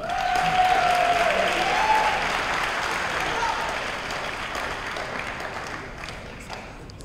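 Audience clapping at a school committee meeting's awards for spelling bee winners, a sustained round of applause that starts full and slowly thins toward the end, with a brief whistle-like tone and faint voices mixed in.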